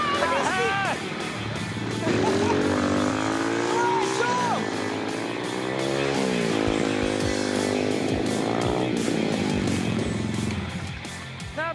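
A motorcycle engine revs and roars continuously, its pitch climbing and falling as it accelerates and shifts during a ride, loud and close for the whole stretch.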